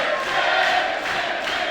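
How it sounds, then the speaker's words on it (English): Wrestling crowd at an MCW Rite of Passage match rising in a steady, dense roar of cheering and shouting, sustained and fairly loud throughout with no clear individual voices. "The crowd starting to come alive for Mitch Waterman."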